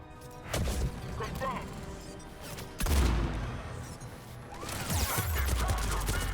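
Bursts of automated turret gunfire in Mass Effect 3, heavy thumping blasts in a few separate salvos amid combat clatter, with talk over the action.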